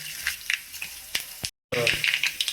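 Spices crackle and sizzle in hot oil while tempering upma, with steady frying hiss, scattered pops and a brief silent gap, under a voice.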